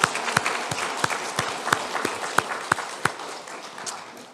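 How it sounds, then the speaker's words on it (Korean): A church congregation at a Sunday service on Parents' Day applauds in honour of the parents, a warm roomful of clapping marked by sharp, louder individual claps spaced through it, fading slightly toward the end. "힘찬 존경과 감사의 박수"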